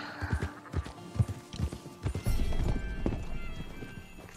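Horse hooves clip-clop in a steady, uneven rhythm in Red Dead Redemption 2, loud and close, with a short neigh in the mix and a denser run of hoofbeats toward the end.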